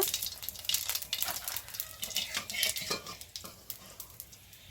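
Onions frying in a pan with bay leaf, dried chilli and cumin, crackling and sizzling close up while a utensil stirs and scrapes, no one talking.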